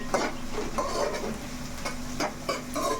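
Fish curry frying in a pan, a steady close sizzle with occasional stirring scrapes cutting through at irregular moments.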